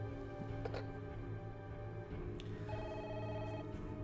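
A telephone rings in the PlayStation game Parasite Eve, its repeated electronic tone sounding faintly over a low steady game backdrop, with no talking.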